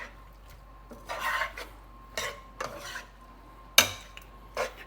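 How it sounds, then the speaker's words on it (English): Pasta being stirred into a buttery sauce in a pan, with soft scraping and rubbing strokes in uneven bursts and one sharp clack of utensil against the pan, quiet and with no talk. "So I'm gonna mix that into the sauce, that buttery sauce"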